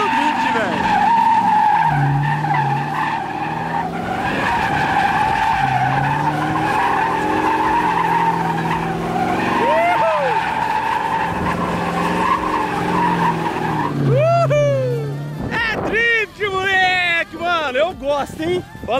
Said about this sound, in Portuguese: é um Camaro fazendo drift